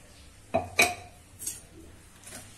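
Metal utensils clink against a pot while crushed tamarind and dates are strained for chutney: two sharp, close knocks followed by a few softer taps, with no talking.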